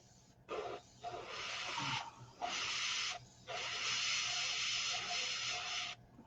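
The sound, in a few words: airbrush spraying paint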